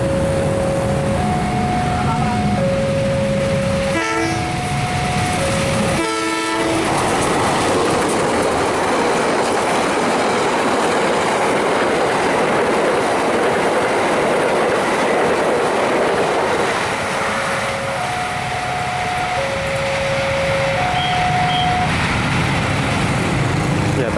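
A CC201 diesel locomotive passes the JPL 105 Mayang level crossing with a loud, continuous rumble and rattle, and alternating two-note warning tones sound at the start and near the end.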